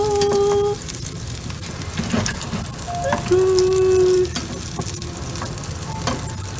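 Steady sizzling of a red kidney bean kebab frying in a hot pan, with a few clinks and faint tonal hums, continuous throughout.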